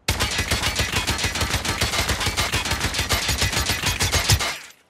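Oden rifle fire in Call of Duty: a loud, sustained full-auto burst of rapid, evenly spaced heavy shots running nearly five seconds, then cutting off abruptly with a short tail.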